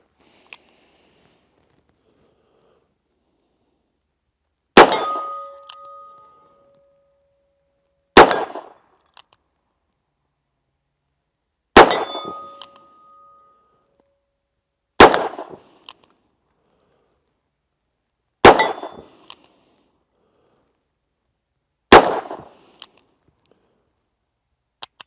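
Six sharp .38 Special revolver shots fired single action ring out at spaced intervals, each with a clanging metallic ring from steel targets, separated by silence in an open outdoor range.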